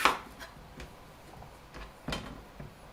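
A big kitchen knife chops food on a board in a few sharp, separate strikes, close by and spaced irregularly with quiet between them, no talking.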